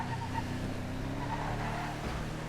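A lawnmower vehicle in GTA FiveM drives with a steady, dense engine drone and tire noise, continuous and fairly close, with no speech.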